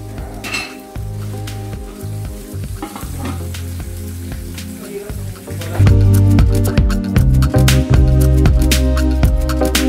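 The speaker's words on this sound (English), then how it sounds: "Ayan natin siyang kumulo." Sweet and sour fish sauce boils and sizzles in a frying pan, with bubbling, spitting crackle and a few utensil clinks against the pan, growing louder and busier partway through.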